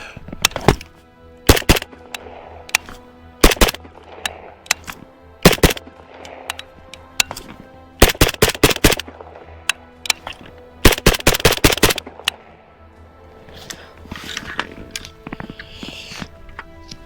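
A Yugo M70 AK rifle fitted with a VG6 Epsilon muzzle brake fires outdoors, loud sharp shots ringing out singly and in quick strings of two to five, with pauses between groups and faint echo.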